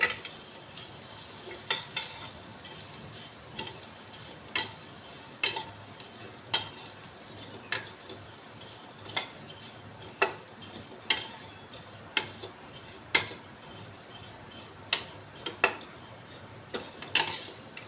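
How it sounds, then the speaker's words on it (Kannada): Vermicelli roasting in oil in a pan for shavige uppittu, a soft steady sizzle under repeated sharp clinks and scrapes of a utensil stirring against the pan, close and fairly quiet with no talking. "ಇವಾಗ ಅದೇ ಒಂದು ಆಯಿಲ್ಗೆ ನಾನು ಒಂದು ಬೌಲ್ ಆಗೋವಷ್ಟು ಶಾವಿಗೆನ ಹಾಕ್ತಾ ಇದ್ದೀನಿ. ಹಾಕ್ಬಿಟ್ಟು ಅದನ್ನು ಕೂಡ ರೋಸ್ಟ್ ಮಾಡ್ಕೊಳ್ಳಿ."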